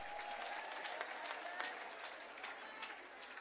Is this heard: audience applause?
yes